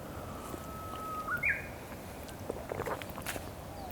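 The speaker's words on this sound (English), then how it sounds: "You can hear the uguisu, or the Japanese warbler, in the background." A single Japanese bush warbler (uguisu) song on a spring hiking trail in Japan: a long, clear held whistle rising into a quick flourish, somewhat distant, with faint rustling footsteps after.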